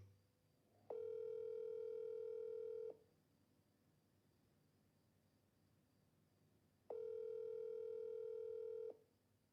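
A telephone ringback tone sounds while a call is placed, two long steady tones of about two seconds each separated by a quiet gap, moderately loud and alone without talk.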